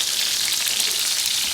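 Oxtail meat browning in a pan for a Jamaican dish, a steady dense sizzle with bright crackling, close and continuous throughout with no voices.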